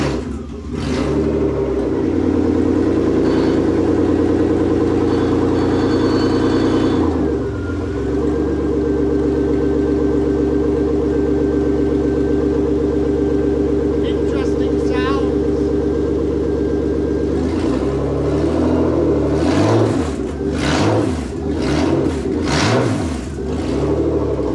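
A BMW E30 engine turns over and catches in winter, then idles steadily before being revved up repeatedly in loud bursts near the end.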